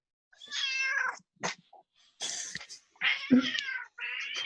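A cat meows several times in short harsh bursts, close by, with a cough-like rasp mixed in during a garage session while a lawnmower sits taken apart.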